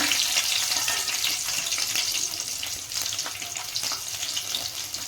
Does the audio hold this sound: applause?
no